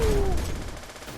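Brief burst of gunfire from the Roblox zombie-survival game Undead Mayhem, a quick rattle at moderate level that fades out within about a second, with no speech over it.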